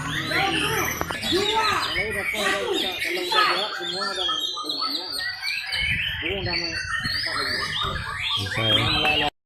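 White-rumped shamas (murai batu) sing at a songbird contest in Meulaboh, their varied chirps and whistles dense and continuous, mixed with nearby crowd chatter and talk throughout.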